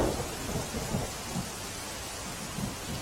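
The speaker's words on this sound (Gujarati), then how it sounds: "જામનગરના જોડિયાના આ દ્રશ્યો છે કે જ્યાં સાંબેલાધાર વરસાદ પડ્યો છે।" Heavy downpour in Jamnagar, a dense steady roar of rain pounding surfaces with low rumbling swells underneath, continuous and fairly loud with no voices.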